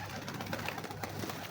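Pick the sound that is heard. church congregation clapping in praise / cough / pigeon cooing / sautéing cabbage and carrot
pigeon cooing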